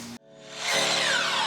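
A nail gun fires into a baseboard miter joint, one sharp bang followed by a ringing, whining hiss that lingers for over a second.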